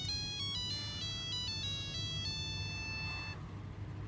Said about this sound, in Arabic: العماد الموبايل صوت الموبايل